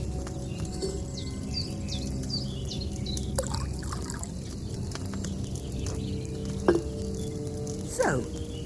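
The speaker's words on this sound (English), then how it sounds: "Don't worry, I poured wine in there." Wine pours into a cauldron in the medieval game Kingdom Come Deliverance II, a steady liquid trickle running throughout beneath a low background hum, with a couple of brief clinks near the end.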